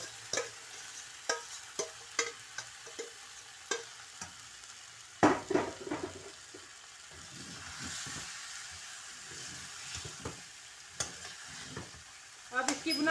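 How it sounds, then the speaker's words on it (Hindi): Mutton karahi with tomatoes being stir-fried in a pan, with a steady sizzle under repeated sharp clacks and scrapes of a spoon against the metal, close and fairly loud, and no talk. "अब इसकी बुनाई इतनी करनी है कि टमाटर का हल्का सा कच्चापन जो है वो ख़त्म हो जाए"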